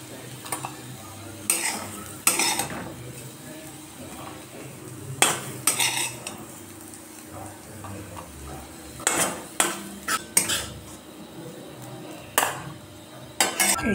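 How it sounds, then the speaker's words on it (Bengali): Fried potatoes being lifted out of a hot pan make repeated sharp metallic scrapes and clinks of a utensil against the pan, in short bursts between quieter stretches of faint sizzling. "এখন আমি আলু ভাজাটা নামিয়ে নেব।"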